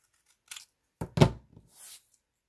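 Scissors snipping paper pieces for a handmade farm animal birthday card, a few short crisp cuts close by with a brief rustle of paper after.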